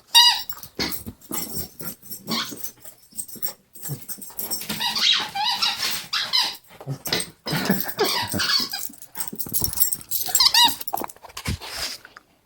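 A dog makes playful growls and squeaky whimpers while playing with a toy indoors. The sounds come close and fairly loud, in repeated bursts that run through the whole stretch, with no talking over them.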